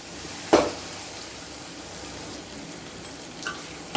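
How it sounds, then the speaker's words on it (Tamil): Tomatoes with salt sauté in a pan for a Cauliflower Paneer gravy, with a steady soft sizzle and a sharp scrape or clink of a stirring spoon near the start, plus a few fainter taps later. "தக்காளி பாதி வதங்கியிருக்கு. இன்னும் ஒரு 5 நிமிஷம் நல்லா வதக்கணும்."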